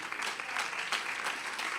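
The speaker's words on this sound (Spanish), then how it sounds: "denle un aplauso fuerte al Señor" A church congregation applauds loudly, a steady, even wash of many hands clapping with no voices over it.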